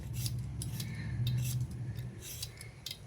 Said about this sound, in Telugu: ఇలా మొత్తం పీల్ చేసి కట్ చేసి పెట్టుకుంటా.